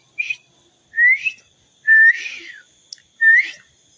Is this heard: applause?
no